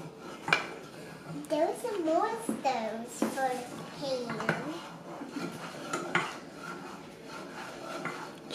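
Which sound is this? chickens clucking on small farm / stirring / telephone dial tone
stirring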